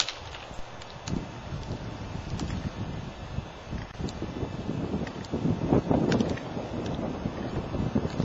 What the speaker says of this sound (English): all these branches are leaning backwards and it's very windy